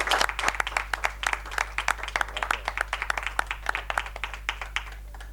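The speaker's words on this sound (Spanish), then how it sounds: "un aplauso muy fuerte para Luis Miguel" Audience applause at a cultural event in Valencia, clapping steady and fairly close throughout, individual claps sharply audible over a low constant hum.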